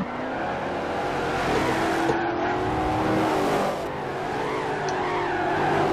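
A 1968 Shelby race car in a sim racing game, a historic Trans Am race at Sedona, roars through a turn with its engine revving and tires squealing. The sound is loud and continuous, with the pitch wavering as the car shifts and skids.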